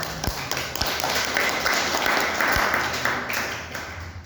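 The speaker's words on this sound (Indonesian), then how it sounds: "Jadi aplaus untuk kawan-kawan." An audience claps together at a union organisation's work-meeting event, a dense, steady applause filling the room throughout with a few sharper nearby claps standing out.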